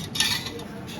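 A utensil scrapes and clinks against a pan while stirring beef chilli dry fry, Kerala style, with a little beef stock added; a single short, close metallic scrape.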